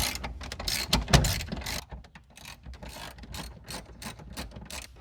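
A hand ratchet clicks in quick, uneven bursts while loosening the steering column bolts on a 1987 Chevy K10, close and clear inside the cab with no talking.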